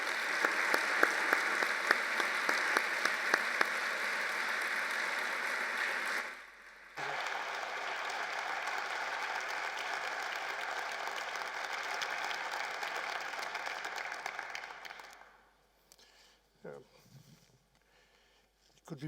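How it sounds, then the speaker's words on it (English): Audience applause at a university lecture opening, welcoming an EU politician: a sustained burst of clapping that dips briefly, swells again, then fades into scattered claps and quiet room noise. "It could be better to applaud just after the speech than before."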